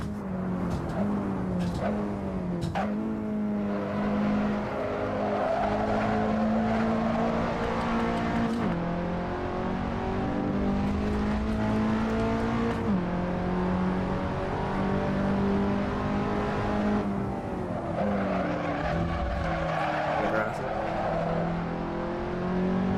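Race car in a racing simulator game, its engine droning and revving continuously through repeated gear changes and throttle lifts, with brief tyre noise, loud and steady throughout.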